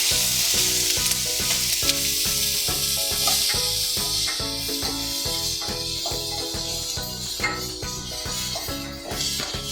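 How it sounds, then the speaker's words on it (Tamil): Chopped capsicum frying with popped mustard seeds in hot oil for a poriyal, a loud continuous sizzle with rapid crackling and scraping stirs throughout, very close. "கடுகு பொரிஞ்சிருச்சு. இப்போ நம்ம கட் பண்ணி வச்சிருக்கிற கேப்சிகம் அது கூட ஆட் பண்ணிக்கலாம்."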